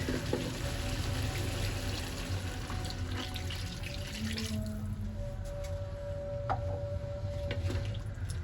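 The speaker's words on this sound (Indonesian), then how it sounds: "Aku tambahin air dulu deh" Water pours into a pot of braised chicken for opor ayam, a steady trickling, splashing stream under kitchen clatter, with a few small clinks and drips toward the end.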